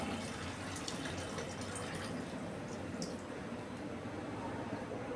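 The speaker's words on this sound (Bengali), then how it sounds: "দুই থেকে 3 বার ধুয়ে নিলাম মসুর ডালটা।" Red lentils being rinsed by hand in water, with steady splashing and running-water wash close up and continuous throughout, no talking.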